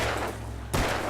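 A single gunshot in the video game Alan Wake, a sharp loud burst cutting in abruptly near the end after a low droning ambience.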